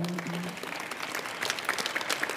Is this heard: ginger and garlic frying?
no